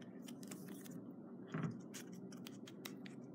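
Scissors cutting paper to round off the edges of a paper MacBook Air model, a series of soft, close snips and crisp rustles, quiet and irregular, with one slightly louder cut midway.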